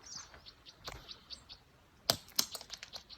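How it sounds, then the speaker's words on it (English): A rock thrown across a mountain meadow lands on dirt, giving two sharp, fairly distant thuds about a third of a second apart, with bird chirps twittering in the background. "if I can throw a rock that far."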